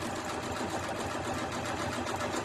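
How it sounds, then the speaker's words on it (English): A sewing machine stitching an exposed zipper runs in a fast, steady, continuous whir at close range, with no voices over it. "So it is sewing."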